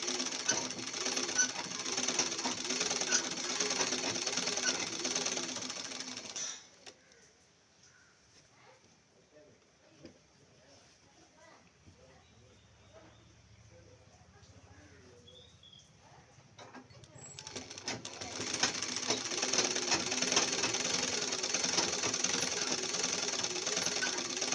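Sewing machine running a double line of stitching on chudidar pants, a steady mechanical whir that stops for about ten seconds of near quiet, then starts again at the same pace.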